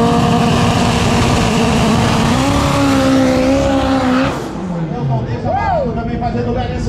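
A no-prep drag racing car engine roars at full throttle at Tarumã, rising in pitch, then cuts off as a voice comes through.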